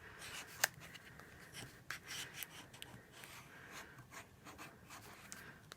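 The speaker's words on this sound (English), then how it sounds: "I'm going to take my bone folder though now and give this a good rub all over so that it adheres." A bone folder rubs over paper card in a papercraft project, making soft, faint scraping and brushing strokes at close range, with a few light taps.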